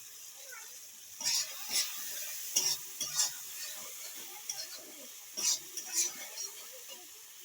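Chopped tomato pieces fry in oil in a pan for a chicken dish, a soft steady sizzle punctuated by several clear scraping stirs and clinks of a spoon, with no talking.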